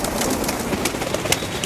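Several rooftop pigeons keep up a soft, steady cooing, with light scratchy rustles over it and no voices.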